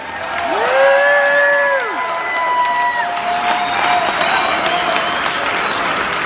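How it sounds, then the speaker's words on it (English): A crowd at a memorial service applauds and cheers loudly, with whoops and sustained tonal shouts rising over dense clapping that stays strong throughout. "let's have a round of applause for the greatest documentary you've ever seen in your life at a memorial service"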